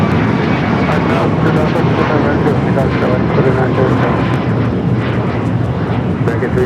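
A large passenger jet roars loudly down the runway on takeoff at Los Angeles International Airport, a dense, sustained engine rumble that holds strong throughout, close and unbroken.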